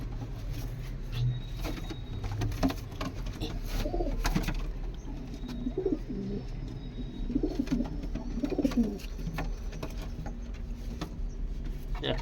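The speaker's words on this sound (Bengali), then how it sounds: "একটা কালদমা পাট্টা পায়রা আছে" Black-green Kaldum pigeons coo in soft, repeated throaty bursts at moderate distance, set against a constant low background hum with occasional light tapping.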